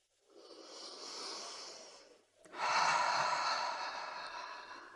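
Slow, deliberate breaths during a guided shaking exercise, drawn in through the nose and released out through the mouth: a soft airy inhale followed by a louder, fuller exhale, close and alone with no talking.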